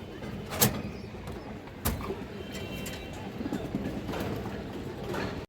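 Soft cooing from a native Kaldom pigeon cock among a pigeon collection, low and fairly faint, broken by a couple of sharp knocks and light background bustle.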